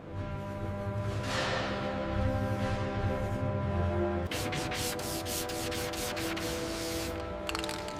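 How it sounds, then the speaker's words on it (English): Sanding of a rusted, filler-patched panel on an old gold train, a continuous abrasive rasp that shifts midway into quicker, rhythmic back-and-forth strokes, close and fairly loud with no talking. "Sanding reveals the panel's original form."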